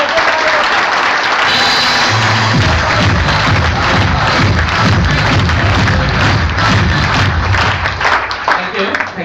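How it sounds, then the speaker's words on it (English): Loud, sustained audience applause and clapping fill the room at a talent show for a rising star, a dense continuous roar of many hands that holds steady and thins slightly at the very end. "A big round of applause"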